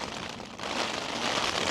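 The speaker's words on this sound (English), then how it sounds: "The rain is absolutely torrential and it's dark now" Torrential rain drums on a Hilleberg Solo tent in high winds on a Lake District mountain, a dense, loud, constant hiss close overhead with no break and no voices.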